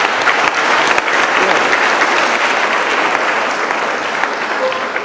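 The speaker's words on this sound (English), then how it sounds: "I think he needs a hand of applause" A large audience at a senior high school gathering claps steadily for about five seconds, a dense, sustained wash of applause that holds at an even level from start to finish.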